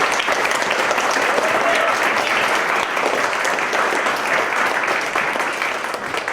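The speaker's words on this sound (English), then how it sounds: "Let's give them a round of applause, everyone." A crowd claps steadily in sustained applause at a Cub Scout Blue and Gold banquet, a dense wash of hand claps that fades slightly toward the end.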